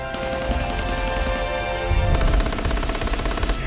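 Rapid bursts of machine gun fire crackle in quick succession, loud and sustained, with a heavier, denser volley partway through and no voices.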